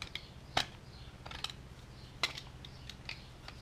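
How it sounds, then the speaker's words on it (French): A utility knife slices the edges of foam in a few short, crisp cuts, spaced irregularly and quiet against a faint low hum. "Avec un cutter, ça se fait bien."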